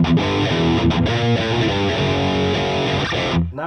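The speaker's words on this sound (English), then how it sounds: "let's hear how this sounds with the distortion preamp pedal" A heavily distorted electric guitar, played through a Mooer distortion preamp pedal, plays a quick, chugging riff, loud and saturated, with brief gaps before ringing out at the end.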